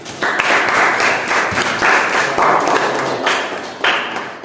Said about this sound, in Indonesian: Tepuk tangan untuk kelompok 3 dan 4.